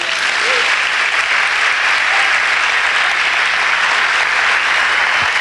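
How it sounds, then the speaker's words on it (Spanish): Loud, dense applause from a church congregation, steady and continuous throughout with no pauses. "Le damos un aplauso."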